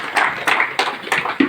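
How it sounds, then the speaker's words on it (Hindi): A group of people claps hands in a steady rhythmic beat, about five sharp claps in quick succession, close and fairly loud, during a fire training session at a camp. "ताली बजाओ, ताली बजाओ।"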